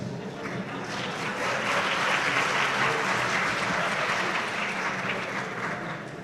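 Students clap at a ceremony, a dense, steady wash of applause from a crowd filling the room, swelling slightly and holding level throughout with no talk over it.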